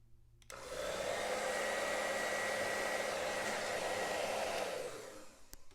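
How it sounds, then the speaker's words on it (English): A hair dryer, used to dry a watercolor painting, switches on and blows with a steady, loud whooshing roar for several seconds, then winds down and clicks off. "I'm just going to go ahead and just use the hair dryer"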